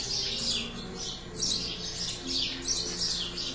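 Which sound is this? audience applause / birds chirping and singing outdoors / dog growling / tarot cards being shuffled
birds chirping and singing outdoors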